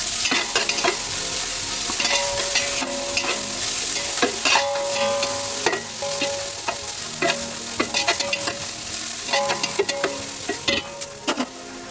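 Chopped onions sizzle in a pan for a spicy Malnad-style mutton masala, a steady close frying hiss broken by frequent sharp spatula scrapes and clacks as they are stirred, with no voices.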